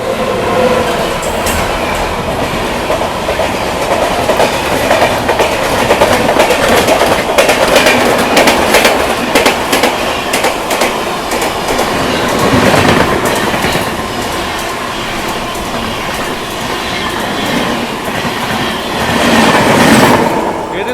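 The 12304 New Delhi–Howrah Purva Express passes close by, a loud, sustained roar of rolling coaches with rhythmic clickety-clack of wheels over rail joints and faint wheel squeal, swelling again near the end.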